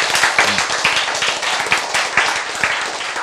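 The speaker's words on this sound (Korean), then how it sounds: "박수" Audience clapping at a Korean lecture on rest and genetic recovery, a dense, steady patter of many hands that stays loud and close for about three seconds, with a brief murmur of voice underneath.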